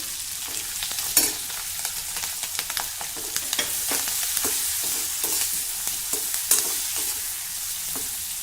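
Green chillies sautéing over low heat in oil with garlic, a pinch of asafoetida and turmeric: an even, hissing sizzle punctuated by repeated stirring scrapes at an irregular pace, close up and without talk.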